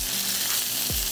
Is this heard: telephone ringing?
no